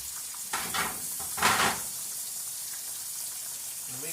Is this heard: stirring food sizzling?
yes